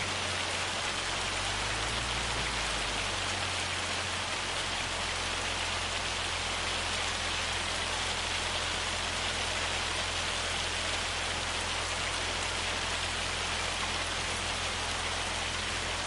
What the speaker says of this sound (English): I can almost smell the rain.